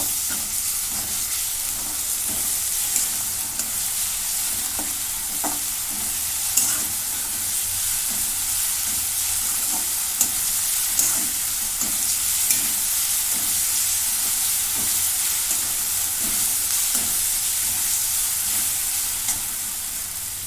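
A ginger, garlic and coriander paste roasting in a hot pan for dried green pea curry, giving a loud, continuous sizzle and frying hiss with faint stirring scrapes and no talk.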